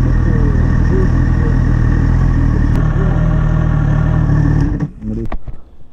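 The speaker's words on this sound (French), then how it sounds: "Elle a vraiment un joli son, ce moteur de GSX-S" A 2020 Suzuki GSX-S1000 with a 1000 cc four-cylinder engine idles loud and close in a steady, even rumble before the sound shifts and drops away near the end.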